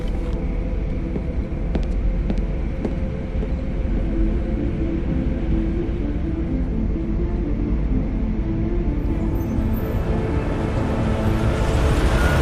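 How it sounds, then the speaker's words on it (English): Video-game train from Deus Ex: Mankind Divided rolling into a station, a steady low rumble with rhythmic clanks, brakes hissing and broadband noise building toward the end, no voices. "Just getting off the train now."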